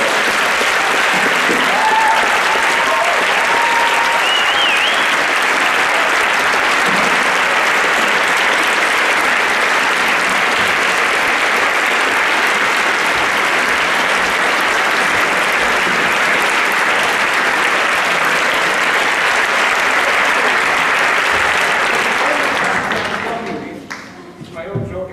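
A large audience at a talk by philosopher Slavoj Žižek gives a long, loud, sustained round of applause that holds steady for over twenty seconds before tapering off abruptly near the end.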